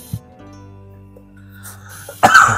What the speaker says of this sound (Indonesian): masih kondisi batuk